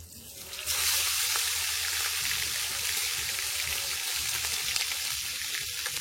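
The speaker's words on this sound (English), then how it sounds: "So I'm going to start fry the lobster now." Lobster frying in hot oil with garlic and pimento seeds gives a steady, bright hiss and crackle that starts abruptly and stays close and constant throughout.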